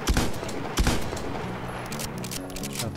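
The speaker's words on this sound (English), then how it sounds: "Shot the barrel kind of late" Exploding barrel shot in Doom 2 on the Alfonzone map10 level: two sharp loud blasts close together near the start, followed by a rumbling, crackling tail of game noise.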